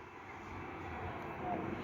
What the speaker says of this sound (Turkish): Bak bu anda bir uçak kalktı.